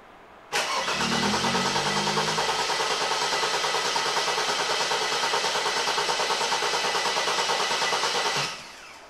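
A rebuilt Mercedes W124 engine is cranked by its starter for its first start attempt, with an abrupt onset, a steady loud whirring crank for about eight seconds, then a sudden stop without catching.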